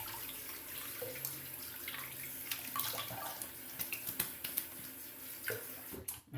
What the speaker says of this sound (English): Let me just rinse off the alum really quick.